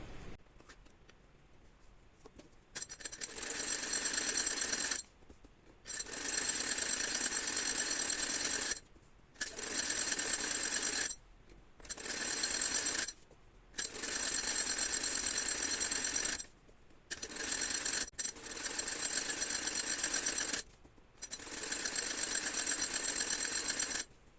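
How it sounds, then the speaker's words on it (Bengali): A sewing machine stitches a seam on a pant-cut salwar in repeated runs of steady rapid whirring. Each run lasts a few seconds, with short silent pauses between, close and clear. "এবার আমি একটু কাছাকাছি একটা চাপ সেলাই দিব"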